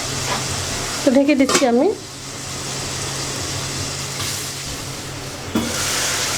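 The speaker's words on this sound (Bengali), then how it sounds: "তো মশলাটা আমি ভালো করে কষিয়ে নিচ্ছি।" Spice paste for fish sizzling in a hot pan with salt, a steady frying hiss that continues after someone speaks briefly near the start, with a small clatter later.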